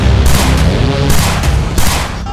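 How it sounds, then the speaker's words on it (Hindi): Rapid gunfire crackles in loud, dense bursts, shots running together in a continuous barrage with brief swells. "ताबड़तोड़ गोलियां"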